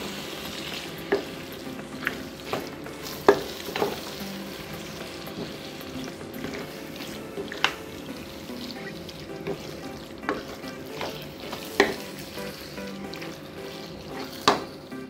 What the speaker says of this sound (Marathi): हे परत व्यवस्थित असे मिक्स करा